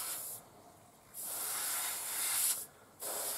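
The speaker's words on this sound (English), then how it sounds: "you just spray it on the models to get a very thin layer of base coat on them" Aerosol can spraying a thin desert tan base coat onto miniature models: three steady hissing bursts, the first brief, the next two longer, separated by short pauses, close and fairly loud.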